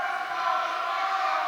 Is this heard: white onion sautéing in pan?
no